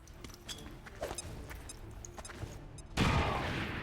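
Gunfire in the turn-based strategy video game XCOM 2: several sharp shot bursts across the clip, ending in a dense, loud volley of automatic fire, with game sound effects underneath.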